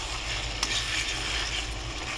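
Chicken curry being stirred in a pan sounds as a steady, dense sizzle with a soft scrape or clack of the spoon partway through, close and even throughout.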